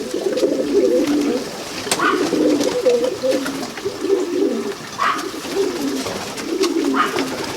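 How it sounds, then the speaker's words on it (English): A baby Birmingham roller pigeon gives soft, repeated low cooing calls in a steady rhythm, close by and alone. "This is a baby Birmingham roller."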